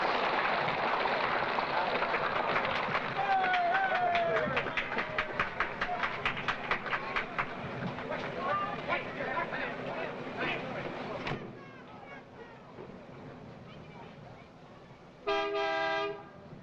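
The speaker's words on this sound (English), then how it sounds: "The train is moving now into place for loading" A train rumbles and clatters nearby with rhythmic clicking as it moves into place for loading, then a horn toots in a short, steady blast near the end.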